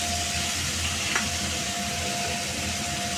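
Spice paste fries in hot oil with a steady, close, dense sizzle and hiss that runs without a break.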